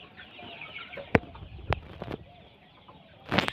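Chickens on a poultry farm, mostly roosters with some hens, clucking softly and intermittently, with a few sharp close clicks and a louder flutter near the end, no talk.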